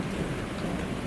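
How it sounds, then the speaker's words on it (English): Steady rain hisses outside a barn's breezeway, a dense, even wash of falling water with no voices. "So it's raining right now."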